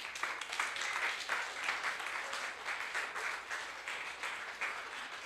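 Audience applause fills the space during a church service, a continuous crowd of clapping hands heard at moderate distance, steady and fairly soft throughout.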